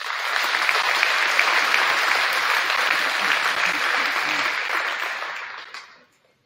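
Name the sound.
audience applause at awards night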